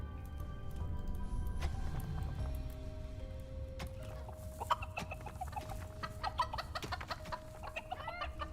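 Gobblers on a farm in the video game Dungeons 4 cluck and squawk in a busy, chicken-like chorus, set against a soft sustained musical tone.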